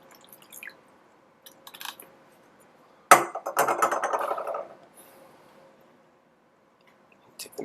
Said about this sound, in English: pour into the cup